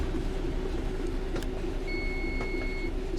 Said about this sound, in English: So the long beep tells us it's been armed.